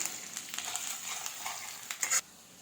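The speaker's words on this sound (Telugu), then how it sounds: "దీంతో పాటు పచ్చిమిర్చి కూడా వేసేసుకుందాం. ఇవి కొంచెం ఫ్రై అవనిద్దాం." Sliced onions and green chilies fry in a pan, making a close, steady sizzle with brief stirring scrapes and a sharper clink near the end.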